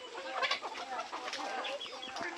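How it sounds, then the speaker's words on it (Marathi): Several desi village chickens cluck busily nearby in quick, overlapping bursts on a Konkan backyard poultry farm, a lively farmyard chorus without speech. "हा एक मित्रांनो आपला दुसरा कोंबडा आहे"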